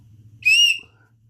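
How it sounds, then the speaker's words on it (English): Small whistle on a fire starter paracord necklace blown once, a short, loud, shrill tone lasting under half a second, close up over faint background hum. "And then you got a whistle."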